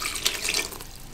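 Water poured into chocolate brownie batter with peanut butter, a brief splashing pour close up, heard alone with no talking.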